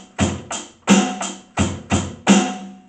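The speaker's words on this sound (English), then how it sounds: "we talked about how to do the basic straight 4/4 basic drum beat" A basic straight 4/4 rock beat on a drum kit: steady hi-hat eighths with kick and snare hits alternating, played up close and alone for a couple of bars.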